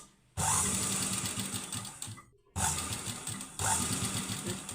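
A sewing machine stitches a leaf-neck blouse in three loud, close bursts of rapid mechanical whirring and needle clatter, separated by short pauses.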